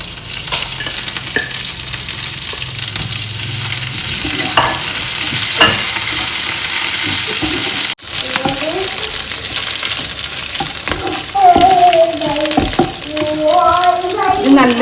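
Three dried red chillies and a handful of curry leaves crackle in hot oil, a bright steady sizzle with stirring scrapes, interrupted by a brief dropout midway; a voice talks over the latter part.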